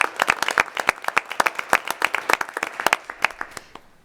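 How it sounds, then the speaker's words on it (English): A school board meeting audience claps for an absent student, with distinct, fairly close individual hand claps in a loose, irregular rhythm from a modest group, steady for about four seconds. "I'd like everyone to join me in applause for Annika Moran"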